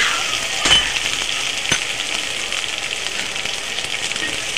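Stalks and potatoes fry in salted oil for a katla fish curry, giving a steady, close sizzle and hiss throughout, with a couple of sharp utensil clinks near the start.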